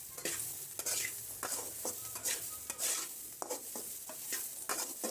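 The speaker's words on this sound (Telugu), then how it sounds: "ఆయిల్ వేసుకొని దీన్ని మళ్ళీ కలుపుకోవాలి. ఈ ఆయిల్ కూడా అంతా కూడా ఈ స్వీట్ కార్న్కి పట్టేలాగా కలుపుకోవాలండి." A spoon stirs sweet corn coated in oil in a pan, with steady scraping and soft sizzling in an irregular rhythm, close and fairly quiet, with no talking.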